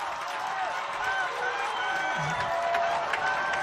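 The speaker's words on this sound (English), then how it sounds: "Gilbert crowd trying to bring him up." Spectators at a Gilbert vs Carroll varsity football game cheer and roar in a steady, moderately loud crowd wash beneath a play-by-play commentator's talk.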